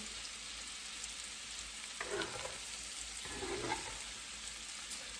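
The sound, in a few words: fresh potatoes frying in a pan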